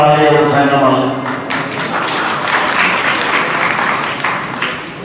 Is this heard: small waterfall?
no